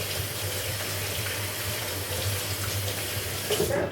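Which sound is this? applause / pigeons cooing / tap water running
tap water running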